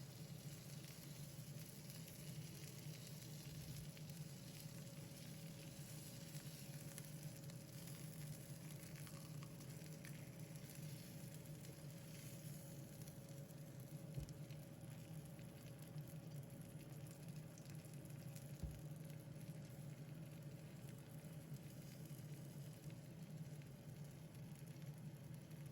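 Pork loin pan-frying in lard, a steady, even sizzle that carries on throughout with only a few faint clicks, no voices.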